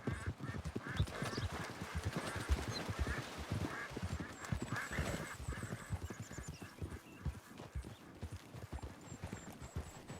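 Hooves clip-clop in an irregular rhythm, with a horse's whinny rising briefly partway through, fairly faint overall, from an Appaloosa horse in the video game Red Dead Redemption.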